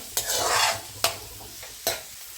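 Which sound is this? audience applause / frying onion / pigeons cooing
frying onion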